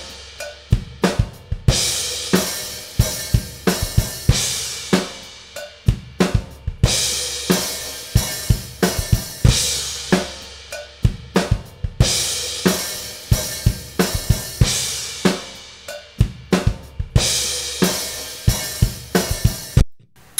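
Drum kit recorded with multiple microphones after phase correction, with the snare prominent, playing a steady groove of punchy snare and kick hits with cymbals, close and full, repeating over about twenty seconds with short pauses between phrases.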